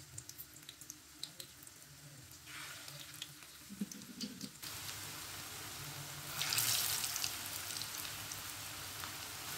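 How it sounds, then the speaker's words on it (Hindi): Raw potato aloo tikki patties go into well-heated oil and sizzle with a steady crackling hiss that swells louder partway through, with no voices. "ऑयल हमारा अच्छी तरह गर्म हो चुका है। आप टिक्कियों को डालते जाएंगे।"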